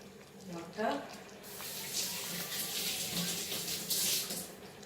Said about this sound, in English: Now I'll add the water.